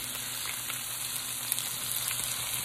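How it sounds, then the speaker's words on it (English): Onions frying in a pan for an orange beef dish with Korean bulgogi sauce, giving a steady, soft sizzle that holds evenly throughout with a faint crackle here and there. "got those onions cooking"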